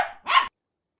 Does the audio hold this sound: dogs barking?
yes